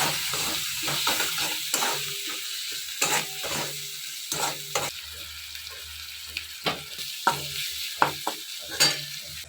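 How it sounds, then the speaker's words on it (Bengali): Onion and garlic sauté in a pan on the stove, a soft continuous sizzle broken by repeated scraping and clacking strokes of a spatula stirring the mixture. "তো এটা একটু ভালো করে কষিয়ে নিই, যাতে পেঁয়াজ রসুনের একটা কাঁচা গন্ধ ওটা চলে যায় আর কি।"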